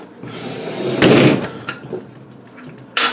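Spring-loaded latches snapping open on an electric 18-inch leaf bud table trimmer, a few sharp metallic clacks and a rattling thunk close by, with handling noise between them.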